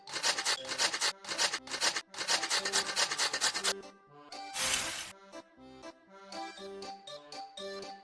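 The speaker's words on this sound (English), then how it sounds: "We need to grate this." A cheese ingredient being grated in a pizza-making kitchen game, heard as rhythmic rasping strokes in quick bursts, then a brief noisy swipe and lighter scraping sounds, clean and close.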